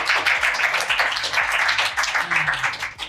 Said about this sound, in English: Miss Dua, everyone clap